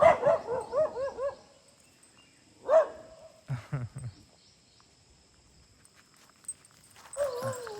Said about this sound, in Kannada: ನಮ್ಮ ಇಲ್ಲಿರೋ ನಾಯಿಗಳು ಮೋಸ್ಟ್ಲಿ ಇನ್ನೂ ಫ್ರೆಂಡ್ ಆಗಿಲ್ಲ ಎಲ್ಲಡೆ ಬೊಗಳ್ತಾ ಇದ್ದಾವೆ